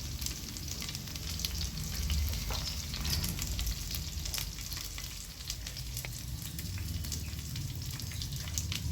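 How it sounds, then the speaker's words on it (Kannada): Palav masala mix and fenugreek leaves fry in hot oil, giving a continuous, close sizzle with scattered crackles and stirring scrapes throughout. "ಪಲಾವ್ ಮಿಕ್ಸು, ಮೆಂತ್ಯ ಸೊಪ್ಪು ಚೆನ್ನಾಗಿ ಫ್ರೈ ಮಾಡ್ಕೊಳ್ಳಿ."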